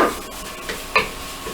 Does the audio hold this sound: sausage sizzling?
yes